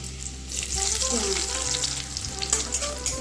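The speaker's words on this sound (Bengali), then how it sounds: "তেলটা গরম হয়ে গেছে রসুন কুচি দিয়ে দেবো" Chopped garlic and onion frying in hot mustard oil in a pan, a steady crackling sizzle with light stirring scrapes and a low hum behind it, no talking.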